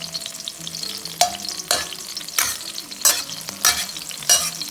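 Shredded scallions fry in hot oil in a wok, a continuous close sizzle broken by sharp scraping bursts of a spatula stirring roughly every half second to second.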